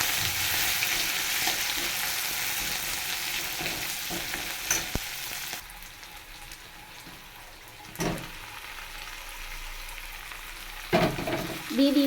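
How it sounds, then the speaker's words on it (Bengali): Eggs and whole garlic cloves fry in oil in a pan with a loud, steady sizzle that drops as the pan is shaken, punctuated by a few scraping stirs. "একটু ঝাঁকানাকা করে ভেজে নেব ভালো করে"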